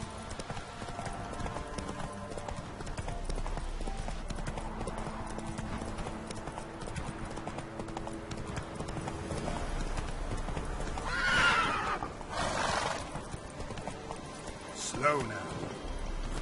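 Horse hooves clip-clop steadily at a run in The Witcher 3, with a whinny and a short burst of neighing partway through, all set under a continuous game soundscape.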